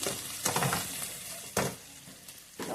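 Tomatoes frying in a pan with spice paste, a steady sizzle broken by several stirring scrapes and bursts, close and moderately loud with no voices.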